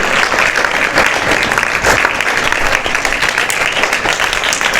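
Dense applause from an audience at an Arya Kshatriya Sabha training and honouring event rolls on steadily and loudly, a continuous wash of many hands clapping with no voices above it.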